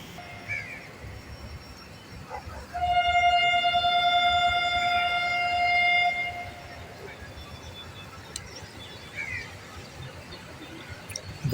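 Shah Latif Express train on the Karachi Circular Railway departing a halt, a loud sustained horn blast of about three seconds over low rumbling rail noise, heard from nearby without talk.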